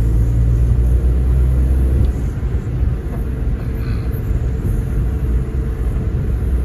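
While driving at night, the car's engine and road noise give a loud, steady low rumble that fills the cabin without pause.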